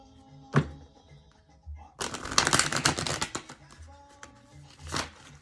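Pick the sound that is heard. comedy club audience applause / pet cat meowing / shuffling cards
shuffling cards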